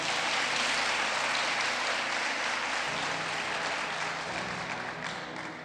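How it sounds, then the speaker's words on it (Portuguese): Church congregation applauds in a thick, continuous round of clapping, with a low organ or keyboard tone sustained beneath it that shifts pitch midway, and the applause tapers slightly at the close. "Você pode aplaudir ao Senhor por essa mensagem?"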